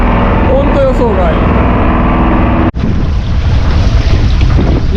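Wind and sea noise aboard a fishing boat on an unexpectedly wavy day, a loud constant roar of gusts buffeting the microphone, with voices talking over it.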